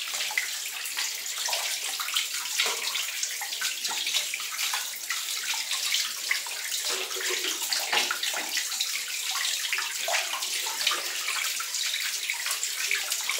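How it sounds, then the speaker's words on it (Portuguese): Water gushes steadily out of a pool pump pipe while the pump is being removed and the valve replaced, a constant hissing splash that runs on unbroken throughout. "porque a água não para de sair"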